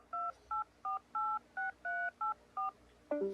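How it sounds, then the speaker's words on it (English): A telephone dials a number with eight short touch-tone beeps at a steady pace, quiet and clean. A brief different tone follows at the end. "was your phone dialing?"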